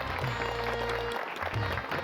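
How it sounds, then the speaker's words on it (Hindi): Brief applause rises over a loud, humming backdrop in a children's comedy scene set as an airline welcome, lasting about two seconds with a short dip midway. "तालियां।"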